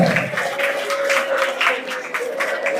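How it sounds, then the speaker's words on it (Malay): An audience at a bilingual competition results ceremony claps for the form two students, a steady patter of applause with a faint sustained tone and some voices mixed in. "Beri tepukan gemuruh kepada kesemua pelajar tingkatan dua."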